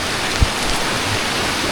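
Rain falls outdoors during a typhoon as a soft, even hiss with a single brief thump partway through, with no voices.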